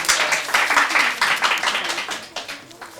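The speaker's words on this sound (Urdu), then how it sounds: "تالیاں بجائیں کے لیے, آپ لوگ حوصلہ افزائی کریں" A studio audience at a televised Ramzan quiz competition claps loudly and steadily for about three seconds, a dense patter of many hands that thins slightly toward the end.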